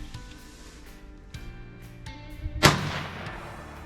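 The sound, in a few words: 22 WMR rifle shot with CCI Maxi Mag 40 grain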